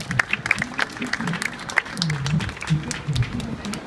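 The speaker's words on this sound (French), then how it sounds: "Vous pouvez applaudir, merci." Applause from spectators after a karate demonstration at an outdoor event, scattered claps breaking through a busy mix of crowd noise and nearby talking voices.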